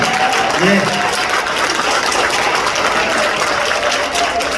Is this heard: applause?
yes